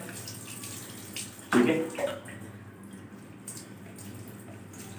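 Fresh alfalfa (lucerne) is swished by hand in a tub of water, giving one loud splash and then softer sloshing and trickling, with a brief spoken word in between.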